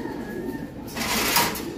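Pigeons in a breeder's loft give a soft, throaty coo that swells near the end, with a low mechanical hum and brief voices in the background.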